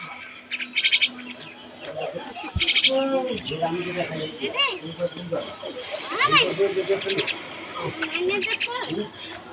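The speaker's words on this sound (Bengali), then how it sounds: "আমার এই তিনটা শালিক পাখি" Three pet common myna birds calling, with varied chirps, whistles and squawks in quick succession, loud and close, mixed with a person talking.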